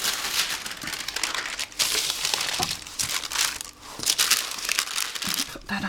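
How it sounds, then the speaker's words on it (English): Sheets of decorative paper for a Valentine wedding journal cover being handled and crinkled up close, with a steady run of crackly rustling and a few sharper crumples across the whole stretch. "I'll just grab my paper"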